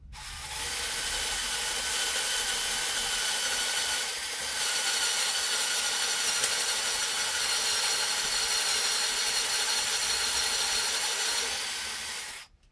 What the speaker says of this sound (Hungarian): Nézzük a fúrót.